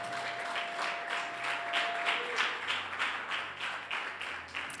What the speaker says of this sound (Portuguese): Aplauda o nome do Senhor, que merece glória e honra